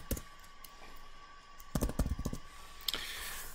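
Computer keyboard being typed on nearby, a few scattered clicks at first, then a quick burst of keystrokes and another short run near the end, with a faint steady hum underneath.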